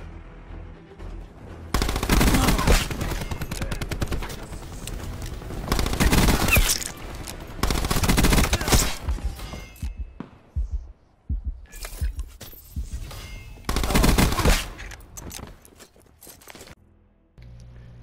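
Rapid KAP 45 submachine gun fire from Call of Duty Black Ops 4 multiplayer comes in several loud, dense bursts lasting about a second each, separated by quieter gaps of game noise and scattered single shots.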